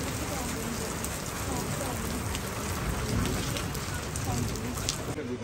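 Steady rain falls outside, a dense, continuous broadband hiss at constant loudness throughout, close and enveloping, with no voices standing out.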